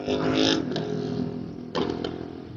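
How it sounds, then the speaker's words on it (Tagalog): A loud motorcycle engine, a CFMoto 450SR or Yamaha R15 V3, rumbles and revs nearby, with sharp bursts of exhaust backfire popping cutting through the steady roar. "Grabe naman yung backfire."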